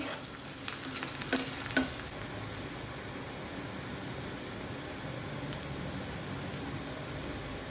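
Ingredients fry in hot oil for a Kerala pulingari curry with snake gourd, giving a steady, fairly soft sizzle throughout, with a few sharp clinks of stirring early on and no talking.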